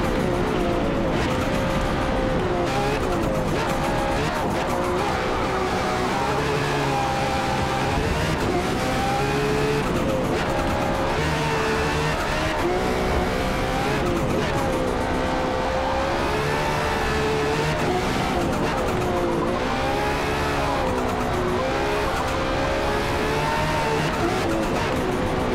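A Lotus race car with over 1000 horsepower on the rear axle roars around Le Mans in Forza Motorsport, its engine loud and continuous, pitch rising and dipping through shifts and revs as the tail slides.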